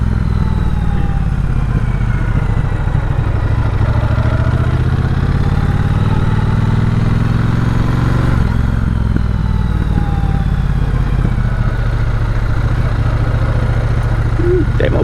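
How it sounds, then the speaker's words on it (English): A Triumph Bobber Icon motorcycle idles loudly and close by, its engine holding a steady, rough, low rumble with a slight clatter across the whole stretch and no clear speech. "this bike needs to be loud and obnoxious"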